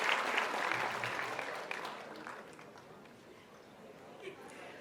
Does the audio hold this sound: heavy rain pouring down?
no